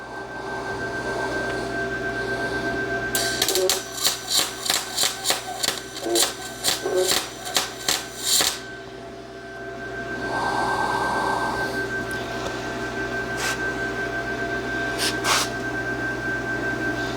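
A Vevor MIG200 4-in-1 welder MIG welding with shielding gas: rapid bursts of crackling arc in short, rhythmic pulses, fairly close, then a steadier hum with a few more brief crackles.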